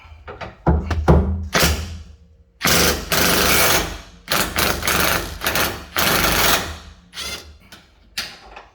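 A tool rattles in several short bursts while loosening a nut on a rear shock bolt of a 2012 Ford F-150 FX2, the loud, close hammering broken by pauses and a few knocks.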